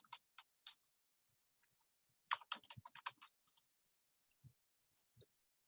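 Quiet clicking of a computer keyboard: a few isolated keystrokes, a pause, then a quick burst of several keys before scattered final taps, close and faint with no talking.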